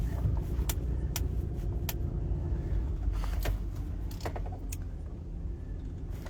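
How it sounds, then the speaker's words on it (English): A car drives along with a low, steady road and engine rumble, while sharp metallic clicks and jingles like swinging keys ring out intermittently close by. "And I'm just driving around here."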